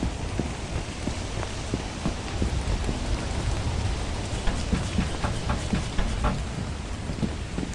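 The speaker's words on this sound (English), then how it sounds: "So it's wet and rainy." Steady, loud rain pours down in the video game Lethal Company, a dense wash of drops with scattered sharper patters and low rumbling underneath, continuous throughout with no voices.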